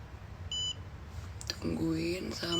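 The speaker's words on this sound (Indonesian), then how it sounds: "Tungguin sampai beep terakhir baru bisa lo tarik ke atas." A single short, high electronic beep comes from a timer on a hair-straightening session, followed by voices talking over a low background hum.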